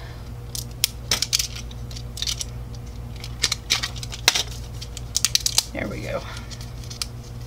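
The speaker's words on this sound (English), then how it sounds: "I always cut into mine" Scissors snip into the wrapper of an LOL Surprise mystery color change ball in sharp, close clicks and crinkly cuts, scattered in quick bursts, with a brief spoken remark partway through.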